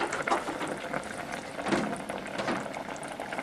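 A pot of jeera rice at a full rolling boil bubbles and pops softly and continuously, quiet and close, with no voices.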